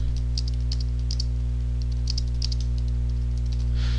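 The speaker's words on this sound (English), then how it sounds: "So I'll type in what I want the link to say" Typing on a computer keyboard: light, uneven clusters of soft key clicks, close and quiet, over a constant low electrical hum.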